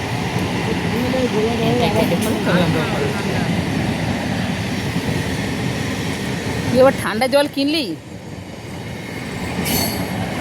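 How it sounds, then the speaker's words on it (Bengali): A train rumbles past at a level crossing as a car waits, a loud continuous rolling roar with wheel squeal, while people talk inside the car. "দেখো ট্রেন যাচ্ছে বলে আমাদের গাড়ি দাঁড়িয়ে পড়েছে।"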